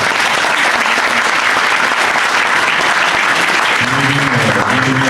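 Loud, dense applause from the members at an auto-cross association's general meeting in Badefols-d'Ans: a continuous close roar of clapping, with a voice briefly rising over it near the end.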